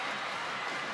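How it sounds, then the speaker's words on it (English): A volleyball crowd roars loudly and continuously at a 2022 PVL Open Conference finals match between Creamline and Petro Gazz. The steady wall of cheering fills the whole moment without any break. "Just listen to this crowd erupt"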